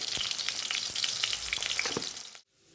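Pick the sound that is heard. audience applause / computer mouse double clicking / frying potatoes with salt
frying potatoes with salt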